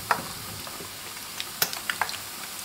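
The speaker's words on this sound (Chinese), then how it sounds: "油温达到六成热时放入蛋卷， 炸至蛋卷定型，给它翻一个面，" Egg rolls deep-frying in hot oil over medium-low heat: a quiet, steady sizzle broken by scattered sharp crackles and pops, with no voices.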